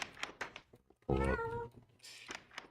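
A cat meows loudly and close in one long drawn-out call, with faint scattered clicks and rustles around it and no talking.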